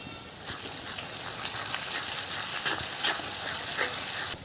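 Garlic paste sizzles steadily with salted onions in a frying pan as an egg curry is started, a continuous crackling fry with faint stirring and no talking.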